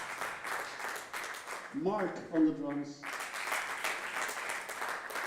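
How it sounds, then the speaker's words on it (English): Audience applause during a band's member introductions at a music showcase. Steady clapping fills the start and end while someone speaks over a short pause in the middle. "You can keep on applauding"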